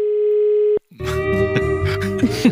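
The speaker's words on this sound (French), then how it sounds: "Et on va du coup appeler Christophe Béchu" A steady telephone ringback tone sounds while a mobile phone is being called, then cuts off abruptly and a recorded voicemail greeting begins.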